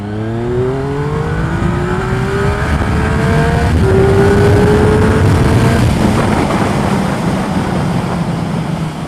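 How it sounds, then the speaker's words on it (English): A 2015 Triumph Speed Triple ABS engine screams up through the revs at full throttle in second gear, climbing in pitch, shifting once, then pulling hard again, loud and close. "Alright, second gear, full throttle."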